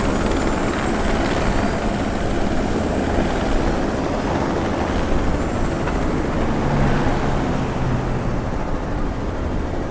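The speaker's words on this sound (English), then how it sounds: "I do believe that is a helicopter." A helicopter in the video game Watch Dogs 2 drones steadily throughout, a loud, continuous broadband rotor and engine rumble with no talk over it.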